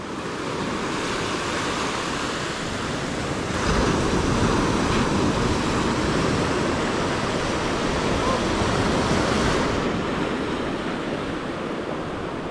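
Ocean surf breaking at the shore, a continuous loud wash of water that swells and surges, with wind buffeting close to the microphone.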